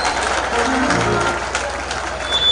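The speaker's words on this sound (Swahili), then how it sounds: "Salimia Yesu kwa makofi mazuri." Applause from a church congregation at a worship service, a brief burst of clapping at moderate loudness over crowd noise and a voice or music.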